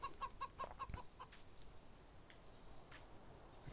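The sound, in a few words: chickens clucking in Farming Simulator video game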